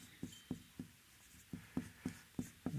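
Chalk tapping out numbers on a board, a series of short, sharp knocks at an uneven rhythm, close and fairly quiet, with no voice over them.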